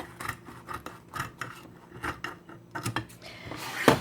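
Kitchen scissors snip through a thin and crispy DiGiorno pepperoni and peppers pizza with a run of close, crunchy cuts in an irregular rhythm, ending in a louder crackling crunch.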